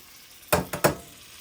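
Flour-coated, egg-washed morel mushrooms are dropped into a hot skillet, giving three quick, close bursts of sizzling that fade fast into quiet.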